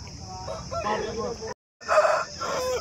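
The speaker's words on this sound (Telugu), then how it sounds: "ఇక్కడ మరి కొన్ని కోళ్ళు అయితే ఉన్నాయి" Country chickens and roosters at a rural poultry market in Kadapa cluck and call close by amid a steady background buzz, with a voice talking over them and a brief silent gap midway.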